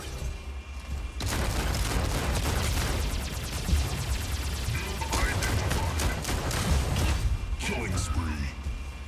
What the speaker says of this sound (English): make sure you equip Missile Rack 12+8 on Brickhouse